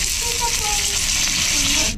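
Curry leaves sizzle in hot mustard oil during a tempering for bathua dal, a loud continuous crackling hiss close up with a faint voice underneath.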